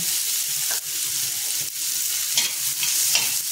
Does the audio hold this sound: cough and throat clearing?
no